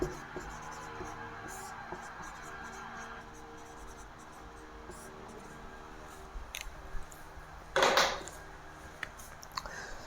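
Pen scratching on paper while working a Class 10 polynomials math problem, soft and close with short strokes and faint scraping, under a teacher's voice explaining.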